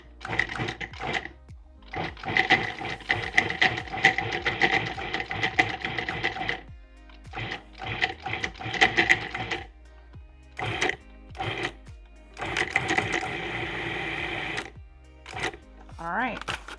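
Food processor pulsing sticks of butter into pot pie dough, a series of short whirring motor bursts of varying length separated by brief pauses, close and fairly loud.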